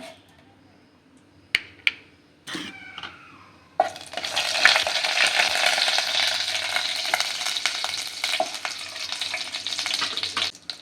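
Whole spices, including cinnamon, cloves, fennel and cumin, drop into hot oil for a dhaba-style palak paneer butter masala. After a few light clinks and taps, a loud, steady sizzle and crackle starts and keeps going.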